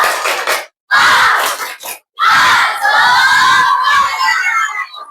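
Children in a classroom clapping game shout loudly in chorus, with a few short group bursts and then a longer sustained cheer, close and energetic.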